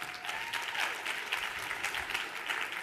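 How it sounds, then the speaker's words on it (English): A business-talk audience claps steadily for New World Title and David Kurz, a dense, even patter of many hands filling the room throughout with no pause. "Let's first give a round of applause to New World Title"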